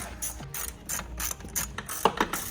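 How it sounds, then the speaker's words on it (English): Ratchet wrench tightening handle-assembly bolts on a jet ski, a series of quick close clicking bursts with a louder rattle of clicks near the end. "I can get the ratchet out and finish them up"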